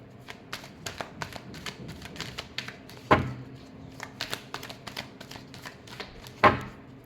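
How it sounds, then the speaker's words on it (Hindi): Tarot cards are shuffled by hand close up in a quick series of soft riffling taps, with two sharper slaps as the deck is squared. "Last shuffle."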